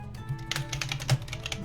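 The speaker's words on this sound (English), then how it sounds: "I'm typing now." Quick, irregular clicks of keys being typed on a computer keyboard, close and fairly quiet over a low steady background hum, with no talking.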